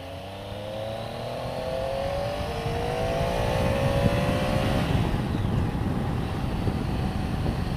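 A Triumph Tiger motorcycle engine drops down to third gear, its steady droning note wavering as revs fall, heard close with heavy wind rush throughout and no speech.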